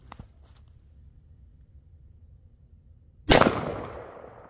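A single sharp, loud gunshot from a Rossi Tuffy 45LC/410 shotgun-revolver cracks out of near silence, its report ringing and fading over about a second, after a couple of faint clicks.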